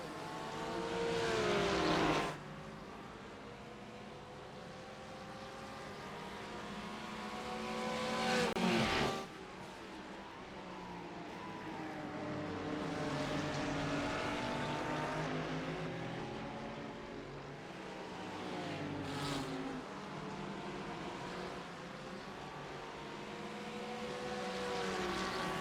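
Race car engines screaming around the Okayama circuit in the iRacing sim, a loud sustained roar with rising and falling pitch as cars pass and shift, including a Lamborghini, with brief drops between upshifts and no talking.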